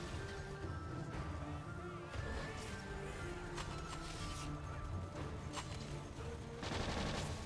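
Rapid gunfire in Borderlands 2 Roguelands, a third-person game mode, a dense stream of shots and impacts over a steady layer of game sound and music, loudest near the end.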